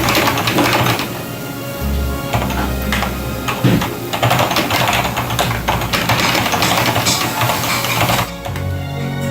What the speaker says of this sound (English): Here's a test of the Cherry silent keyboard.